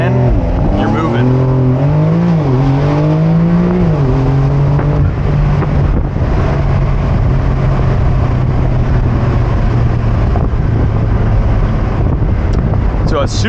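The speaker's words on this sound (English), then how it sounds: "It's going to enter launch control and you're moving." Porsche 911 Carrera 4S Cabriolet (992) launching under launch control, engine note rising in pitch through a gear then a shift, followed by loud sustained roar with heavy wind rush, close and intense, voice talking briefly over it.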